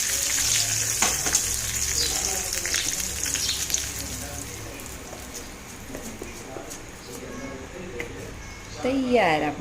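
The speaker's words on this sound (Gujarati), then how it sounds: "હવે આપણે આની અંદર થોડો વઘાર નાખવાનો છે તો વઘાર મૂકી દઈએ." Tempering spices crackle and sizzle sharply in hot oil for coconut chutney, a close, busy frying hiss that gradually softens, with a brief voice near the end.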